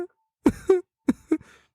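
A voice imitates the sniffling of fake crying, several short breathy bursts in pairs with brief pauses, close and fairly quiet, no talking.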